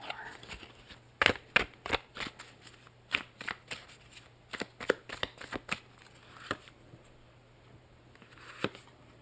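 Tarot cards are drawn and shuffled in a quiet whispered reading, a close run of crisp card flicks and snaps that thin out toward the end, with soft whispering alongside.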